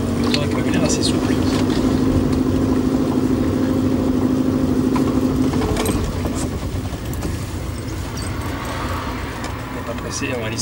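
A BMW 2000 Touring car engine runs steadily with a low hum and a brief tonal whine, joined by a dull thump and background voices.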